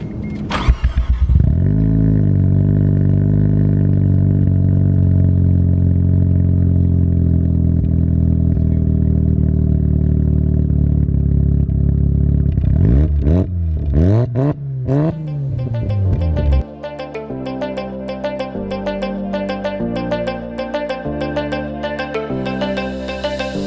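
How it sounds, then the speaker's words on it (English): A right-hand-drive Mazda RX-7 Type RS engine starts and idles with a deep drone, then its exhaust revs sharply a few times before a choppier rhythmic sound takes over. "we'll jump into a quick sound clip of the exhaust so you guys can hear it"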